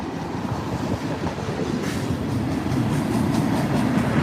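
A freight train of manifest and intermodal cars rolls past close by in Stuart, Florida, with a loud continuous rumble and rhythmic clickety-clack of wheels that grows slightly stronger toward the end.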